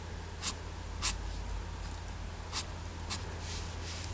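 A pencil draws lines on paper for a cat picture, with a few faint, brief scratchy strokes spaced apart over a quiet background hum.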